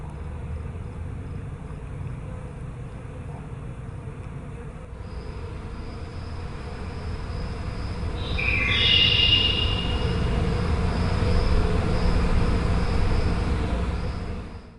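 Bees hum steadily around a settled hive in a continuous buzzing drone that swells louder and closer partway through. A faint high whine runs over the swarm, and no one talks.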